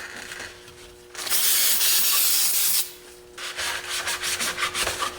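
Aerosol cleaner sprayed onto the plastic chassis of a Traxxas X-Maxx RC car, two loud steady hissing bursts, the first longer and broad, the second choppier and pulsing, close up with no talk.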